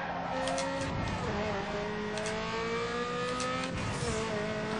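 Race car engines rev and whine through a video game race, loud and steady, with rising and falling harmonic pitch sweeps as cars accelerate, plus bursts of tire squeal and skidding, continuous throughout.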